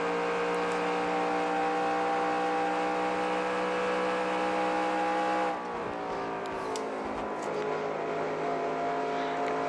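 A NASCAR Racing 2003 stock car on an out lap at the Tropicana 400, its engine a steady sustained drone held at high revs, then shifting pitch slightly as it settles into a new gear.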